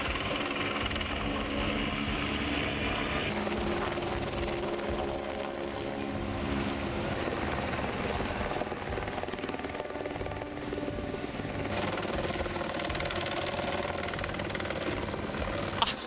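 A helicopter flies overhead while dropping coupons over villages, producing a continuous loud rotor drone with a rhythmic thudding chop that holds steady for the whole stretch, with no talking.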